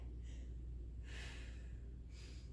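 Breathing during a floor exercise workout: two close, audible breaths, a short one near the start and a longer forceful exhale or inhale in the middle, against a quiet background.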